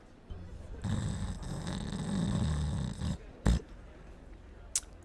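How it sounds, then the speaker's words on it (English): Snoring from a sleeping Laterano character wearing a sleep mask in the game Arknights, a loud, steady rasping stretch lasting a couple of seconds, followed by a brief snort and a faint later puff. "is snoring away"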